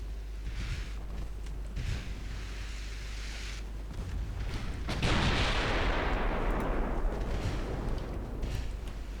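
Battleship 6-inch naval guns fire in a naval warfare game, heavy booming blasts in a steady sequence, one big roar swelling midway over a constant low rumble, with no voices.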